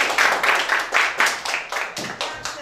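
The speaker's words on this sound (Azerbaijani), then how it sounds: "Xəzər dənizi qrupunu alqışlayaq." Schoolchildren in a classroom clap in rhythmic unison, with about ten loud, evenly spaced bursts of clapping close by.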